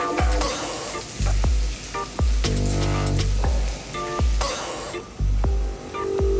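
Pistachios, almonds and cashews fry in a pan with a steady sizzle. Repeated clattering stirs and scrapes against the pan come at a roughly one-second rhythm, close and clear, with no talk.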